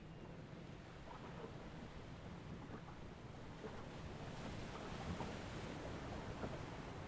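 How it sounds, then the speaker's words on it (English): Steady northeasterly wind blows across the open water at the entrance of the River Dart, a soft, continuous rushing with faint water noise beneath. "We've got this northeasterly wind"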